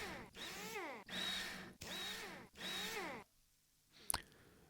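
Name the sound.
screws being driven in, video game Rover Mechanic Simulator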